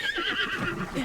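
A large white horse in the Zelda: Tears of the Kingdom video game gives a sustained, wavering whinny, moderately loud and heard alone over faint game ambience.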